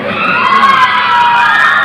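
A crowd at a music performance cheers and shouts loudly for two singers, a dense continuous roar of many voices with no distinct words.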